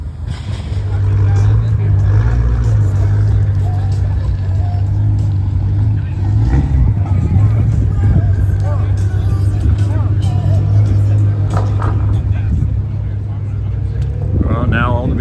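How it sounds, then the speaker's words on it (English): BMW cars roll in at a monthly car meet at a brewery, a deep steady engine rumble close by under crowd chatter and people talking. "now all the BMWs are rolling in"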